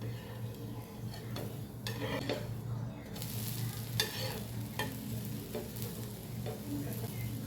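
Oil is drizzled around a ragi amboli, a finger millet pancake, as it fries on a pan, giving a soft close sizzle with scattered scraping and utensil clinks.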